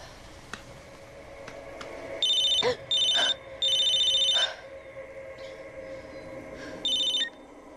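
A mobile phone rings in several electronic bursts with gaps between them, loud and nearby, with a few faint background noises and no clear speech.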